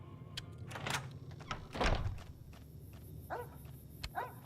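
A dog in the video game Fallout: New Vegas gives a few short, fairly quiet barks mixed with thumping game sounds, with no talking over it.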